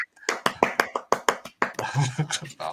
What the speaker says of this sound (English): I'm clapping for anyone listening on the podcast.